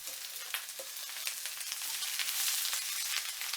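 Napa cabbage and mushrooms sautéing in a hot pan with onion and carrot, a soft steady sizzle and crackle that grows slightly louder as the vegetables are stirred, with no voices.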